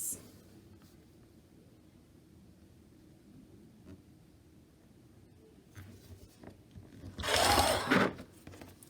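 2.5-inch strips of quilting cotton are cut in one brief, loud, rough slicing burst near the end, after a long stretch of quiet handling with faint taps and rustles.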